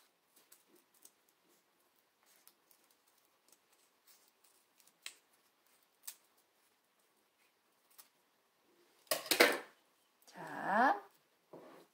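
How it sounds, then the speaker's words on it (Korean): Scissors cutting a petal shape from folded paper, soft scattered ticks and clicks building to two louder, close snipping and rustling bursts near the end, otherwise quiet with no talking. "꽃잎 모양을 가위로 오려주세요."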